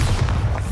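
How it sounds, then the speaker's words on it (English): A Bombarda spell explosion from Hogwarts Legacy lands as a short, loud, deep boom with a rumbling low-end burst, close and heavy. "Bombarda!"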